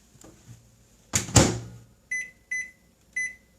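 A microwave oven door thuds shut as a chocolate cupcake goes in, followed by three crisp, evenly spaced keypad beeps, close and clear.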